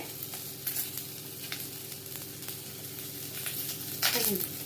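Spices such as cashews, cinnamon, pepper, cloves and poppy seeds fry with grated coconut in a pan for mutton gravy, giving a steady soft sizzle with occasional stirring scrapes and clinks near the end.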